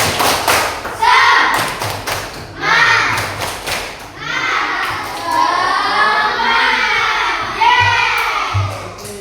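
Classroom group of children clapping the rhythmic 'tepuk semangat' pattern, with loud hand claps and thumps in bursts, mixed with children's voices and shouting close by.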